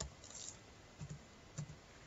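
A few soft keystrokes on a computer keyboard while entering a MySQL command, faint and sparse, with small clusters of clicks near the middle and end and no talking.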